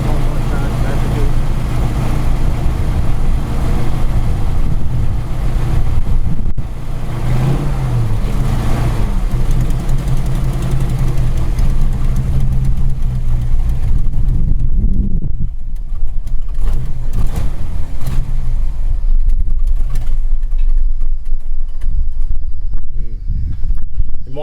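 An old car engine runs after a long time in storage on aged fuel, a loud steady low rumble with uneven surges, struggling to settle into an idle.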